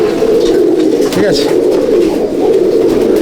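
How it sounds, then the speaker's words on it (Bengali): Pigeons brought from Andhra Pradesh, kept for sale at a pigeon loft in Halisahar, coo and call close by, a steady murmur of birds with someone speaking briefly over them. "অন্ধ্রপ্রদেশ থেকে আনা পায়রা"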